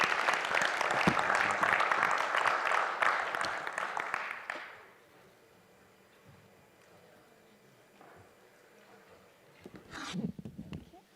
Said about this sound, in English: I think we just give it a round of applause again for Keith and for Melanie.